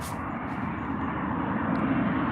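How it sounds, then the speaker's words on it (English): A Loganair plane arriving at Manchester Airport, its engines a steady broadband roar that holds at an even, moderate level and swells slightly toward the end, heard from a distance outdoors. "A smaller little private plane coming in. Oh no, it's a Loganair."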